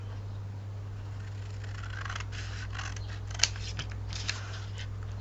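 Scissors cut paper for a scrapbooking project in soft, close snipping strokes, with one sharper click, over a steady low electrical hum.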